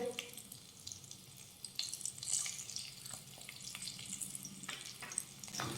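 Crushed garlic cloves, turmeric and asafoetida sauté in hot oil in a pan for aloo methi bhaji, with a soft, low sizzle, intermittent stirring scrapes and a faint watery hiss in the background.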